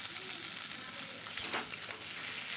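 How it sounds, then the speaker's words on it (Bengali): Potato frying in a pan for a Bengali potol dorma stuffing, a steady close sizzle with occasional stirring scrapes and bursts of crackle, no voices. "দেখো, একটু আলুটা একটু ভেজে নিচ্ছি"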